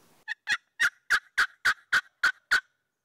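Wild turkeys call near a creek on a hillside, a crisp series of about nine evenly spaced, loud, sharp notes ringing out in open air with no voices.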